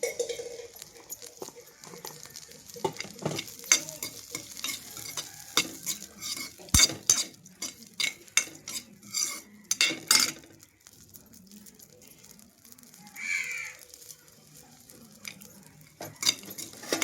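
Cumin seeds sizzle in a hot pan for a Telugu-style ridge gourd chutney while a spoon stirs and scrapes, with repeated metallic clinks and a steady crackle, close and fairly quiet, with no talk.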